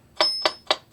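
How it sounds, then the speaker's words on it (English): Four crisp, evenly spaced electronic clicks from a drum machine's slow metronome tick in a steady rhythm, close and clear with nothing else around them. "That's going to sound like this. That is the slow click."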